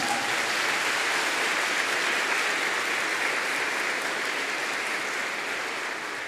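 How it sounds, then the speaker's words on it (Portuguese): A church congregation at a Fourth Sunday of Advent Mass applauds the Virgin Mary, producing a dense, even roar of clapping that carries at full strength throughout and fades slightly near the end. "Aplauda a Virgem Maria."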